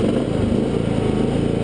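A Cub Cadet LTX 1040 lawn tractor engine running, a loud, close, steady low rumble with a regular pulsing beat, no voices.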